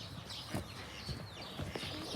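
Farm chickens cluck softly in a small poultry yard of about forty birds, a few short calls rising over steady low background noise, with no talk.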